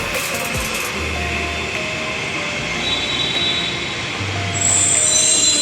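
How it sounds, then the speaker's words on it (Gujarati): A metro train pulling into a station: low rumble and rolling wheel noise, long high metallic squeals from the wheels, and a louder roar as it draws nearer at the end. "આ બીજી મેટ્રો ટ્રેન આવી સામે."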